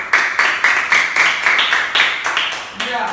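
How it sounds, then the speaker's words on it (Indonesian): Classroom pupils clap together in a steady, rhythmic beat for group Garuda, about a dozen sharp, even claps at close range, followed by a brief voice at the end. "Terima tepuk tangan dulu untuk kelompok Garuda"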